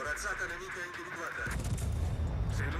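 Torpedoes and naval gunfire in World of Warships build into dense, rumbling booms in the second half, after a stretch where a voice talks over the game audio.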